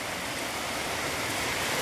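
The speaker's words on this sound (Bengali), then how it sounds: "সুন্দর বৃষ্টি হচ্ছে।" Rain falls steadily as a soft, even hiss of dense drops, continuous and moderately quiet with no talking.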